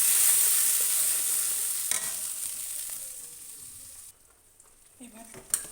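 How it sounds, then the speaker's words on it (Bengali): Onion, ginger and green chilli paste frying in mustard oil with nigella seeds, a steady bright sizzle that fades over time, with a few stirring knocks near the end. "এবার এই পেঁয়াজ আদা কাঁচা লঙ্কাটা হালকা ভেজে নেবো"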